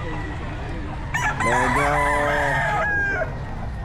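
A rooster crows once, loud and close, at a pet market in Bocaue during heavy rain, its drawn-out call rising over a steady wash of background noise, with a brief voice nearby.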